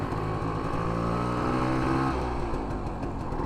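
A 1968 Montgomery Wards Riverside motorcycle engine runs steadily in first gear, a loud continuous close-up drone that shifts slightly in pitch partway through, with no talking.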